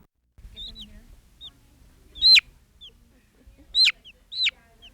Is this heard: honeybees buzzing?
no